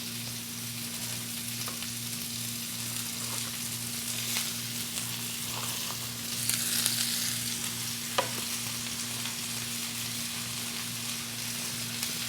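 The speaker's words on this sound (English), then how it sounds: "I'm putting the onions and the mushrooms in now." Onions and mushrooms sizzle steadily in a frying pan, a continuous hiss with a few scraping stirs and small pops, alongside a low constant hum and no talking.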